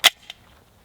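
A 9mm pistol loaded with Vortex 150 grain TAC XP rounds fires one sharp, loud crack, then a fainter echo or report follows a quarter second later and the air falls quiet.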